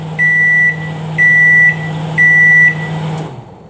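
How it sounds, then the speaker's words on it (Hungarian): A microwave oven runs with a steady low hum and sounds three evenly spaced, loud, high beeps. The hum then winds down and stops near the end. "30 másodpercre beteszem a mikróba"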